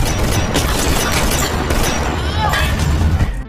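Heavy gunfire in an action film shootout, a dense continuous barrage of booming shots and crashes that stays loud throughout and cuts off abruptly at the end.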